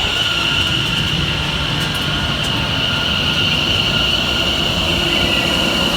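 An Elizabeth Line train from London Paddington pulls in to terminate on the Great Eastern Main Line on a very hot day, its wheels squealing over a steady loud rumble of rail noise with no voices.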